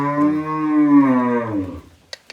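A cow or buffalo at a livestock sale in Punjab gives one long, low moo lasting about two seconds that slowly fades, followed by a couple of faint clicks.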